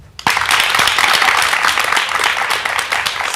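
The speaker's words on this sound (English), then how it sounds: "Janet, give her a special clap." After a sharp onset, a studio audience breaks into brisk, close clapping for Janet Moore, a full and even burst that carries to the end.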